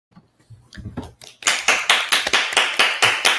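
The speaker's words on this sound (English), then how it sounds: "Yeah, people are clapping." At a talk, an audience starts with a few scattered claps, then from about a second and a half breaks into loud, regular rhythmic clapping that keeps an even beat to the end.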